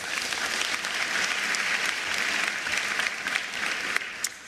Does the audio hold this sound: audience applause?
yes